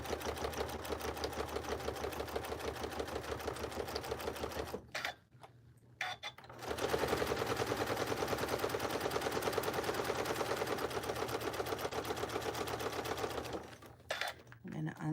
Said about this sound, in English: now we're going to just top stitch all the way down to hold that